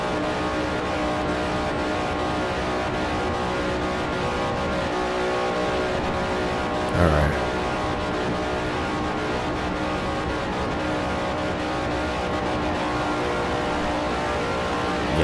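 Australian V8 race cars roar around the track in Forza Motorsport 4, running without restrictors, a continuous dense engine drone from a pack of cars with one brief louder surge midway, no voices.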